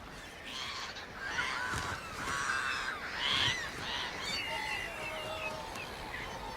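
Wild birds, including goose-like honking calls, ring out across temporary winter floodwater lagoons in the fens, overlapping and continuous at moderate distance, with a narrating voice over them.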